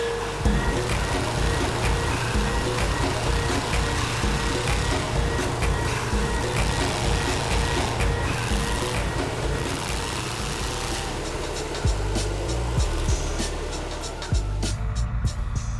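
Hovercraft powered by a 175 hp Subaru engine drifting, a steady loud engine roar and rushing air wash running continuously with slight surges in intensity.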